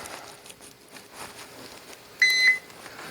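Multimeter continuity beep while testing wiring in a crane claw arcade machine, a single short electronic tone near the end over faint handling noise.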